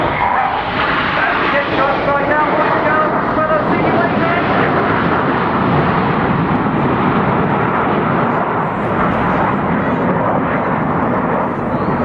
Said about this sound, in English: all 3 aircraft on each wing to drop back in unison to form Eagle as they come in from the right